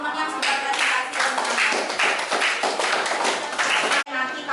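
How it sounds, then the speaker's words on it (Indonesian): Classmates in a school classroom clap together for a group that has just presented, a dense burst of group clapping lasting about four seconds before it stops abruptly. "kasih tepuk tangan teman-teman yang sudah presentasi"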